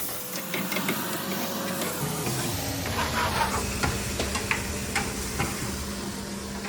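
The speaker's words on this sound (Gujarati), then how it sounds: "તો ઘરે આવીને અમે જમવાનું બનાવવાનું ચાલુ કરી દીધું છે." Chana dal and onion cooking in a pan in a home kitchen, a steady sizzle and hiss with soft stirring scrapes throughout.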